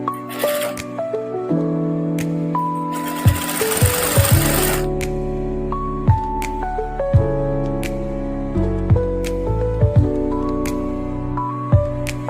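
Sewing machine stitching the side joints of a cloth garment, short bursts of mechanical stitching with clunks and pauses between, close and fairly loud over a steady hum, with no talk.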